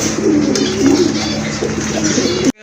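Caged pigeons sold as a top-quality pair coo in a steady, close, throaty murmur that runs continuously before cutting off abruptly near the end.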